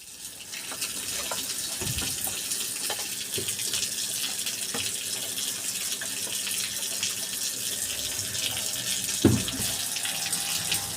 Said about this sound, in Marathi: इथं ना हे नळ लावलेला आहे बाल्कनीमध्ये किचनच्या